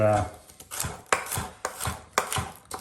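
A chef's knife chops vegetables on a cutting board in quick rhythmic bursts, with a close, sharp knock on each cut and short pauses between the runs.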